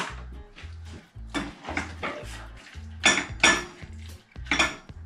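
Mac and cheese with scallions stirred in a pan: repeated scraping clatters of utensil against metal in an uneven rhythm, with a steady low hum beneath and sharper clanks toward the end.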